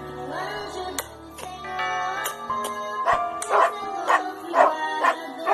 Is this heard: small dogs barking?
yes